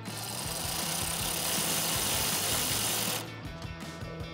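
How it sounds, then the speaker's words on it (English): A 12 mm socket ratchet tightens a bolt on a DV8 Offroad center-mount front bumper on a 2016-2021 Toyota Tacoma, a steady close mechanical clicking and whirring run that cuts out abruptly near the end, with no talking. "I'm gonna use a 12 millimeter socket to tighten that up."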